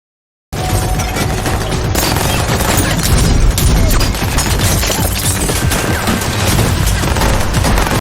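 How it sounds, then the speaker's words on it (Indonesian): Loud, dense gunfire fills a tense shootout inside a room in a film scene, rapid overlapping shots and impacts sustained throughout after a brief silent start. "terjadilah baku tembak menegangkan di dalam kamar tersebut"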